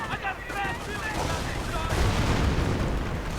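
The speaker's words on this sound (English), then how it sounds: "there we go, artillery against the American anti-tank positions" Artillery fire in a real-time strategy video game strikes American anti-tank positions with a dense rumble of overlapping booms and blasts, while a voice commentates over it.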